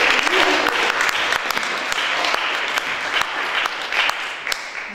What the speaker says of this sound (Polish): poproszę o brawa dla naszego gościa